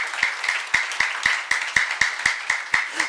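Rhythmic unison clapping from a church youth congregation during a sermon, about a dozen evenly spaced claps keeping a steady beat, close and clear with no talking.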